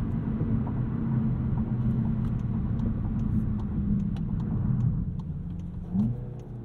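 A 2022 Volkswagen Jetta GLI engine drones steadily under low road rumble, then near the end gives a quick rising blip of revs as it rev-matches a downshift.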